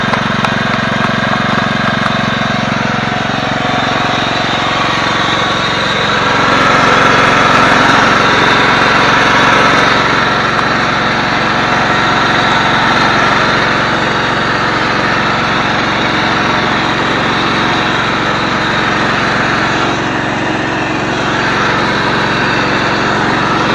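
Yard-Man riding lawn mower with a 15 hp engine and 42-inch deck running steadily, a loud, close, continuous buzzing drone that swells slightly as it moves, with no speech.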